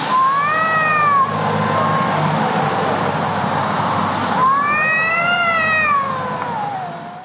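Street cats squabble over food, yowling in rising and falling cries that stop briefly and then return in a second burst. The wails are loud and close over steady background noise.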